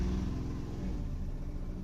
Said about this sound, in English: Motorcycle. Nice. Cool.